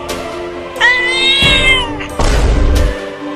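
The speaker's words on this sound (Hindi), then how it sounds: "अरे बाप रे, इतनी बड़ी बिल्ली कहाँ से आ गई?" A cat lets out a loud, close meow with a rising, wavering tone, followed by a sharp noisy burst and a low rumbling thud.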